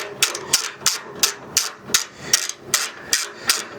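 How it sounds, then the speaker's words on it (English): Roofers working on a church roof with nail guns: a steady run of sharp, evenly spaced bangs, about three per second, fairly close and loud with no talk. "so you can hear the roofers in the background with the nail guns"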